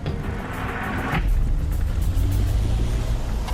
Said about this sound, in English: running the car on 2 flat tires in this scorching heat is putting enormous strain on the engine